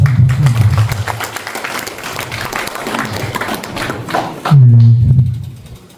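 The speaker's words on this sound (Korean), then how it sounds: "우리 장병아 그 시민을 위해서 함께 봉사하신 그 동료들을 위해서 격려의 박수를 드리겠습니다" An audience claps in encouragement at a lecture, a dense burst of many hands that swells and fades, then gives way to a low voice near the end.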